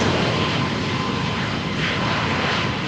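A jet airliner roars steadily on its takeoff roll down runway 13 at Malaga Airport on a stormy morning, a loud, continuous broadband engine rush filling the whole stretch without any break.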